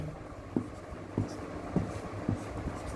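Ligands for a crystal field theory diagram being drawn on a board, heard as four short, evenly spaced strokes over a low, steady room hum.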